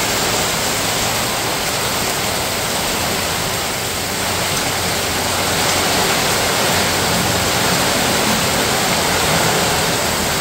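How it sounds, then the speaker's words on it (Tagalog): Rain falls outside during a rainy-season downpour, a loud, dense, continuous hiss of water with no breaks and no voices. "Maulan po mga chula."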